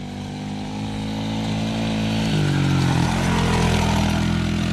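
A Sunl SLA 90cc Chinese four-wheeler engine runs steadily while ridden through the woods, its buzzing note shifting pitch mid-way as the rider changes speed, growing slightly louder toward the end.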